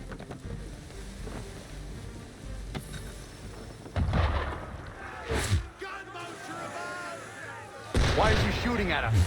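Cannon fire from a sailing ship in Assassin's Creed III: a few heavy, booming blasts spaced seconds apart, rumbling over a steady backdrop of wind and water.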